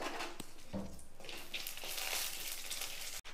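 Two garlic cloves and a small piece of tamarind are lightly roasted in a pan for groundnut chutney, a faint continuous sizzle with occasional soft scrapes of a spoon against the pan.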